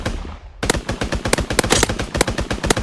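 Rapid gunfire from a weapon at the shooting range in the video game PUBG, a dense string of loud, closely spaced shots that starts abruptly and continues to the end.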